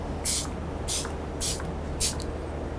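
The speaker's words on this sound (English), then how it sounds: "It's rose water makeup setting spray." Rose water makeup setting spray misted in four quick hissing bursts at an even pace, close and crisp against a quiet room background.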